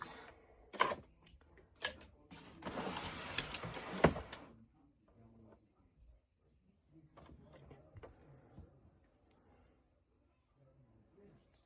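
A sewing machine base-stitches a hanging towel: a short close burst of rapid mechanical stitching in the first seconds, with voice around it, then quieter talk.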